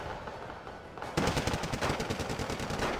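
Uzi submachine gun fire in the war strategy game Wargame: Red Dragon, a quiet lead-in giving way to a sustained rattling stream of rapid shots, dense and fairly loud, with no talk.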